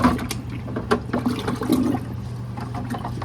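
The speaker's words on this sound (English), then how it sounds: "Just get that sanitation water going in there." Sanitation water being swirled and sloshed inside a removed part of a Nio bean-to-cup coffee machine, close gurgling and splashing with small knocks as the part is twisted.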